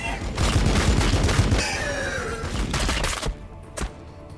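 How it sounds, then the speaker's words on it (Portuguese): Rapid bursts of gunfire in the video game Warhammer 40k Battlesector crackle loudly for about three seconds, dense and overlapping, then drop off to a quieter background with a few scattered shots. "Muitos tiros!"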